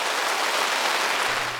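Heavy rain pours down on a boat moored at Cobourg on Lake Ontario, a dense, steady hiss of drops close by with no voices.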